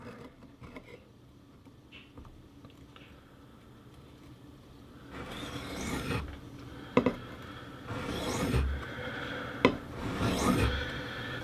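A knife blade scrapes across a wet sharpening stone, starting faint and sparse, then building into long, louder gritty strokes with a few sharp clicks as the edge is worked back and forth.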